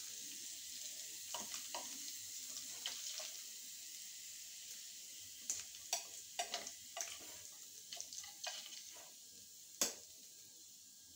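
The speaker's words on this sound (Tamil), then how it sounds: "இன்றைக்கி நல்லெண்ணெயில் எடுத்து நான் பொரிச்சிருக்கேன்" Fish frying in sesame oil, a continuous soft sizzle with irregular sharp crackles and pops, some louder bursts near the end, with no talking over it.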